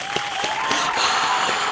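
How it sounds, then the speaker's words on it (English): A short burst of applause from a small crowd plays as a sound effect at the opening of a podcast, steady clapping throughout with faint whistle-like tones. "Round of applause, round of applause"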